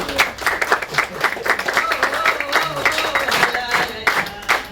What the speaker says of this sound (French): Et à ce moment-là, vous applaudissez.